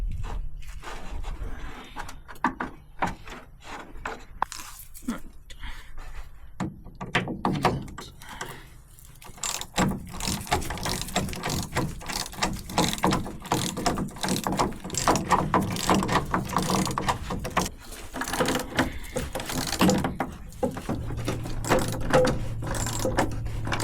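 Ratchet wrench loosening bolts while removing the rear tub from a Land Rover Defender HCPU, heard as irregular close clicks and clunks of metal work over a dense, noisy workshop background, with no talk.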